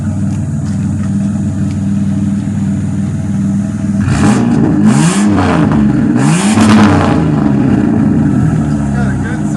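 A 1999 Buick Regal GS Turbo with dual 3-inch straight pipe exhaust idles steadily, then revs up twice in quick bursts, loud and close from outside the car, with voices in the background.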